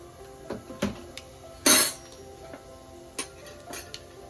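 Cumin and mustard seeds tempering in a pan for gongura chutney, heard as a handful of sharp, scattered pops and ticks, one louder crackling burst in the middle, over a quiet background.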